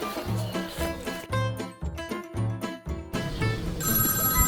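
A telephone rings in a comedic domestic scene, its electronic ringtone repeating in regular bursts over a steady musical backing, loud and close with no talk.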